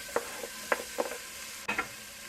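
Diced onion goes into olive oil in a pot, giving a light sizzle punctuated by a few distinct clacks and scrapes of a utensil, close by with no talking.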